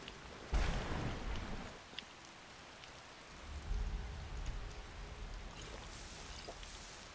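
Steady rain hiss in a Skyrim game scene, with low rumbling swells of thunder building and fading beneath it, fairly quiet throughout with no voices.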